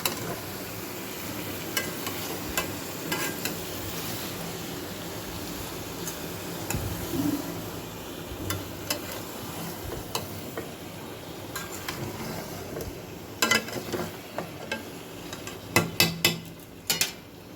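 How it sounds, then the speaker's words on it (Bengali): Chicken simmering in a pan with turnip and potato gives a steady low sizzle with occasional stirring clicks and scrapes, growing busier toward the end, with no talking. "এখানে আলু আর শালগম দিয়ে মুরগির মাংস রান্না করতেছি"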